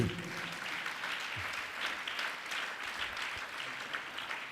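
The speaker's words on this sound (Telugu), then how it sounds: "చప్పట్లు కొట్టండి." A congregation at a Christian prophetic ministry service claps hands continuously, a dense and even burst of applause that holds steady throughout.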